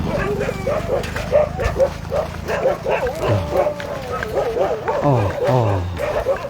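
A house dog barks and yips repeatedly at the arrival at lodgings on day 20 of a Buddhist pilgrimage through India and Nepal, the barks close and insistent while people talk over them.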